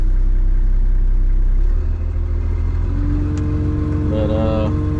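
Off-road truck engine idling close by, a loud steady low rumble that shifts slightly in pitch partway through as it keeps running.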